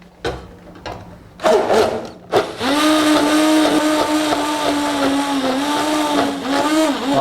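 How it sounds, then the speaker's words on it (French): A small hand blender whirs through a sauce, emulsifying it: a few short bursts first, then a loud continuous whine that wavers slightly in pitch as it runs, with no talking. "Alors ma sauce, je vais l'émulsionner. Alors on va utiliser un petit mixeur."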